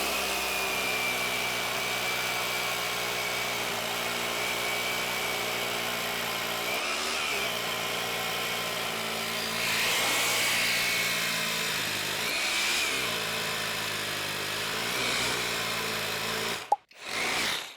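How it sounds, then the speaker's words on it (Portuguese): A GENAI 21V cordless hammer drill bores with a 10 mm Irwin bit, giving a loud, steady, close-up drilling roar that holds for about seventeen seconds and then cuts off abruptly. "Coloquei agora uma broca de 10 milímetros de marca boa da Irving pra gente ver se tem diferença no tempo de furar"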